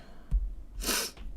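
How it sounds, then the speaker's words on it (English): A wet, nasal sniff from a runny nose, a short snort followed by a longer drawn-in breath through the nose, close and fairly quiet with no speech. "I need to blow my nose, but I'm so close to being done. Sorry. I'm just going to be sniffling here."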